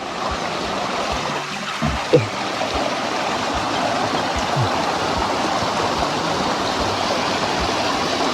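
A clear stream flows steadily outdoors in nature, a loud continuous rushing wash with a couple of faint knocks near the start and no talk.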